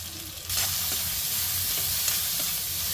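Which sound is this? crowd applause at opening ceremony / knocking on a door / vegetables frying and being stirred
vegetables frying and being stirred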